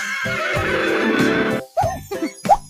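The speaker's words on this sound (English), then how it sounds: "H for horse." A horse gives a loud, close whinny that rises and trembles for about a second and a half, then fades into a few short, breathy snorting neighs.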